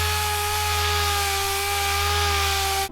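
A power sander on car bodywork gives a steady, continuous whine with a strong, unchanging hum, running loud and close without a break until it cuts off at the end.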